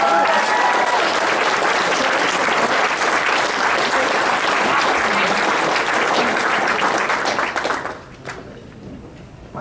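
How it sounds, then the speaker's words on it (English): Convention panel audience at a My Little Pony fan event applauding voice actors, loud sustained clapping from a large crowd that runs for about eight seconds, then drops off sharply to near silence. "I think that that's worthy of a bit of applause"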